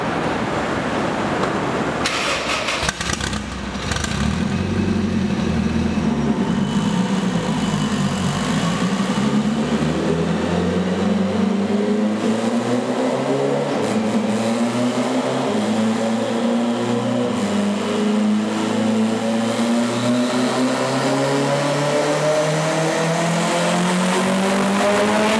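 Toyota Corolla engine strapped to a chassis dyno, revving hard as it climbs through the gears with rising, stepped engine pitch and a roaring exhaust, loud and close throughout without speech.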